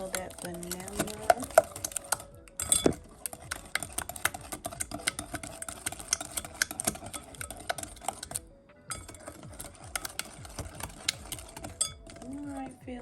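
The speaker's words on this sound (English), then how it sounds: "go ahead and whisk that up until it's nice and combined" Custard pie filling of eggs and vanilla being whisked in a bowl, a rapid, steady ticking and clinking of the whisk against the bowl, with quiet talk in places.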